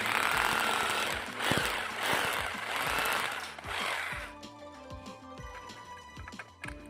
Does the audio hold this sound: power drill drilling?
yes